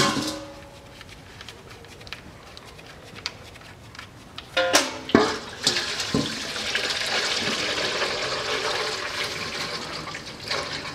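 Oil pours from the CVT of a 2010 Nissan Murano Z51 into a basin, a quiet trickle that becomes a steady splashing stream after a few knocks and clunks partway through.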